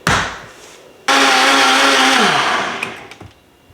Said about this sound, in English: Fill up your blender with water, and now we're going to blend until smooth.